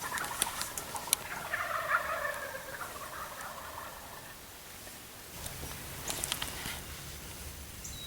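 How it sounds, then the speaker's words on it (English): Wild turkeys gobble in the distance in Kansas, a rattling burst early on and another farther off later, over quiet outdoor ambience. "And they'll gobble every now and then."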